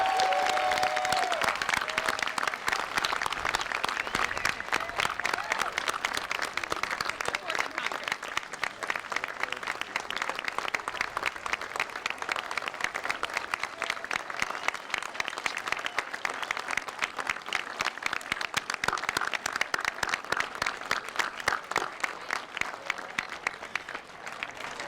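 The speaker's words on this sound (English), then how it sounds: "How about one more round of applause for our graduates?" A school crowd claps for middle school graduates at a graduation ceremony. The dense applause runs unbroken and loud for the whole stretch, with a brief voice at the very start.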